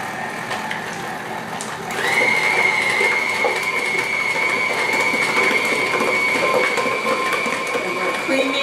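A stand mixer running at medium speed, creaming cream cheese for New York cheesecake batter: a steady mechanical whir and hum that rises in pitch as the motor comes up to speed and then holds constant, close by, with no talk.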